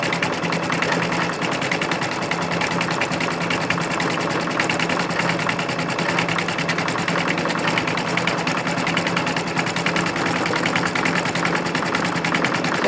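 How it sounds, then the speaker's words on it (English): Embroidery machine stitching a design on fabric in a hoop, a loud, continuous buzzing whir with fast needle strokes that runs unbroken and alone for the whole stretch. "As soon as this is finished sewing, I'm going to take the hoop off of the machine."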